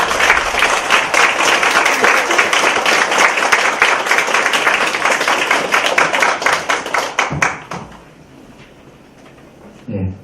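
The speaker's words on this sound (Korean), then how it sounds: "우리 김재구 교수님 나오실 때 크게 박수해 주시기 바랍니다." A church congregation at a lecture event claps warmly as a professor comes forward, dense steady applause for about seven seconds that then fades to a quiet room with a few scattered sounds.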